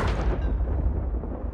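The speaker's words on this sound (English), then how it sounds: "Dude, I got hit by lightning." A lightning strike hits the player in the video game Sea of Thieves as a loud, deep boom that rolls off into a rumbling decay over a second and a half.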